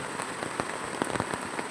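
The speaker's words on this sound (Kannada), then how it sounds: "ಈ ಮಳೆ ನಿಲ್ಲುವುದಿಲ್ಲ ಅಂತ ಕಾಣುತ್ತದೆ." Heavy rain pours steadily, a dense close hiss of drops hitting surfaces with scattered louder splatters, and no voices.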